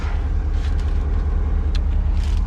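A Volvo EC380EL excavator raising its hydraulics: a steady, loud low engine drone with a constant hum from inside the cab, without distinct changes.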